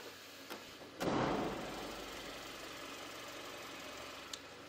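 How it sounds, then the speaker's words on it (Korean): A Hyundai Avante AD 1.6 GDi engine idles steadily with the hood closed, a low even hum holding after a brief thump near the start. "이 정도의 엔진 소음 만나보실 수가 있습니다"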